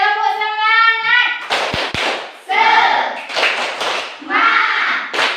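Primary school children in a classroom chant and clap a rhythmic spirit cheer, voices calling out in bursts between sharp claps, lively and close.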